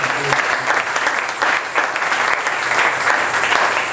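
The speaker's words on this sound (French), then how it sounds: "Oh, applaudissez." A church congregation applauds during a sermon, with sustained dense clapping at steady volume throughout.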